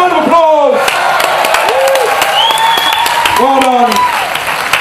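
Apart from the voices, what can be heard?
crowd applause at a chilli eating contest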